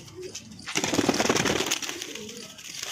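Punjabi Malwai pigeons coo under a burst of loud, scratchy broadband noise that rises and fades, with softer coos at the start and end.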